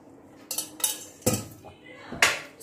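A spoon stirs yogurt into mutton paya curry in a pan, making a few distinct metallic scrapes and knocks against the pan, close up, with quiet gaps between them.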